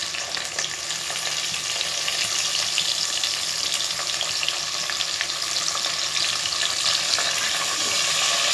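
Tomatoes for a rajma biryani hiss and crackle in a hot frying pan, a steady, fairly loud sizzle filling the whole stretch with faint scraping stir noises and no talking.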